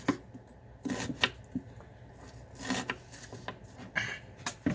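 A knife diced an onion into medium pieces on a cutting board for lentil soup, making several separate sharp chopping thuds and scraping rasps with irregular pauses between the bursts.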